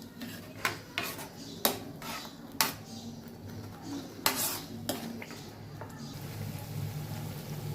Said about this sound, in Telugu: పాలు పోసుకొని కలుపుకోవాలి